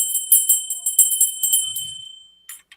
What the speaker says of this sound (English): I got bells.